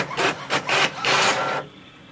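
An HP OfficeJet Pro 9020 printer making a copy: several loud, close mechanical whirring passes in quick succession, one longer sweep ending abruptly, followed by a quiet hum.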